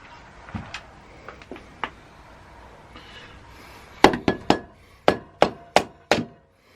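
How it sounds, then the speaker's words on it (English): A rubber hammer taps a BMW R1100GS motorcycle cylinder head to break its seal: a few light knocks, then seven firm, evenly spaced whacks close up. "rubber hammer, just breaks the seal, and then just gently pull it off."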